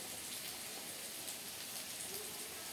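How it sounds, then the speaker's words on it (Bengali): Chillies, a bay leaf and five-spice seeds sizzle in hot mustard oil in a kadai, a steady close hiss with fine crackle that runs without pause and with no talking. "একটু সর্ষের তেল দিয়ে দিলাম, আর দিলাম 2টো লঙ্কা আর একটা তেজপাতা, আর দিলাম একটু 5 ফোড়ন"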